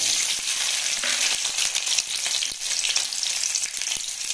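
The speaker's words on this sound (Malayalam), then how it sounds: "ഈ എല്ലാം കൂടി നമുക്ക് നന്നായിട്ട് വഴറ്റാം" Shallots, garlic, onion and tomato sauté in a pan with a loud, continuous sizzle and frequent scraping stir strokes throughout.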